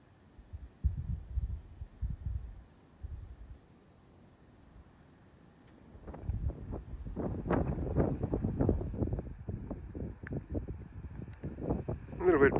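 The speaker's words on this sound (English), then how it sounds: "A little bit breezy here to the east of Nanyatara, as you can probably hear." Breezy morning wind east of Nannutarra in Western Australia rushes and buffets the microphone in rising gusts, with someone talking at the start.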